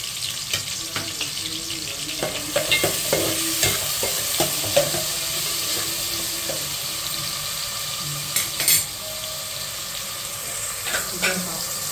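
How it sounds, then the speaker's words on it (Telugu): Onions and green chillies with turmeric and salt fry in generous oil for a cucumber mutton curry, a loud continuous sizzle with frequent spatula scrapes and stirring clatter throughout. "ఉల్లిపాయలు పచ్చిమిరపాయలు వేసి దానికి కొద్దిగా పసుపు ఉప్పేసి చేయాలి"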